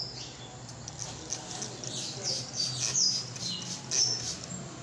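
Pet birds chirp in short, high, scattered tweets that grow more frequent toward the end, set against a low indoor hum and some faint background noise.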